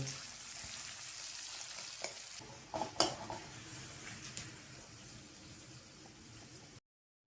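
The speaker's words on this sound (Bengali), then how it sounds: "একটা বড় সাইজের পেঁয়াজকে পাতলা করে কুচি করে সোনালি বাদামি রং হওয়া পর্যন্ত ভেজে বেরেস্তা বানিয়ে তুলে রেখে দেব" Thinly sliced onion fries in hot oil until golden brown for chicken korma, a steady close sizzle with a few sharp utensil clinks and scrapes early on, fading slightly toward the end; no one speaks.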